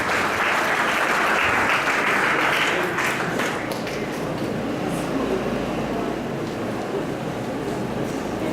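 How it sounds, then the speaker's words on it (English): A conference audience applauds at an urban redevelopment meeting for Tacloban City, with dense, loud clapping that starts strong, then settles into a steadier, slightly softer patter that continues to the end. "A round of applause."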